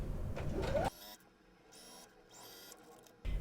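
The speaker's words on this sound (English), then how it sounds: "I will sew along here." A sewing machine runs in short bursts as it stitches along a folded seam of jumpsuit fabric, with a louder clatter at the start and end and a steadier, quieter whir between, no talking.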